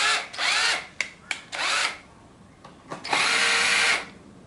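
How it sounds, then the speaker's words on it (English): A cordless drill drives screws on a Stihl hedge trimmer blade, whirring in several short bursts of varying length with pauses between, close and fairly loud, ending in a longer run. "When I use my auto drill, I usually put it at 7"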